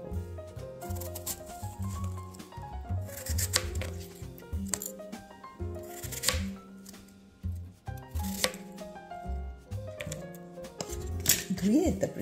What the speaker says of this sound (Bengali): একটু মোটা করে কেটে নিব, কেটে নিয়ে সিদ্ধ করব।